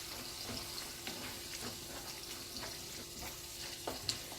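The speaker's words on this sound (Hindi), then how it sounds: "फिर से मिक्स करेंगे।" A spoon stirs pasta sauce with basil and oregano in a pan, a soft low sizzle under faint scraping and clinking strokes, quiet and close with no speech.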